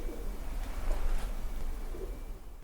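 Pigeons coo a couple of times, soft and low, against a steady outdoor hum. No one speaks.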